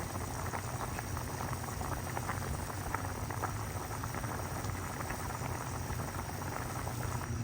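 Carrots cooking in a pan for pancit canton with bihon, giving a steady, even sizzle and bubbling hiss that stays close and constant with no talking.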